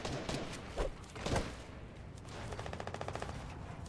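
Gunfire in Fortnite Battle Royale plays faintly. A few scattered thumps come first, then a rapid, steady burst of automatic shots rattles on for the last second or so.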